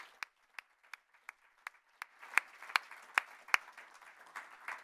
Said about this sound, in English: So to Becky and the team, I think we deserve to give them a quick round of applause.